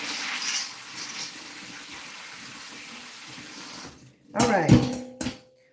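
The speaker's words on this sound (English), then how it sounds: "Rinse them real good." Water from a kitchen sink tap pours steadily while food is rinsed of dust and dirt, a close, continuous hiss. It cuts off near the end, followed by a couple of splashy handling sounds.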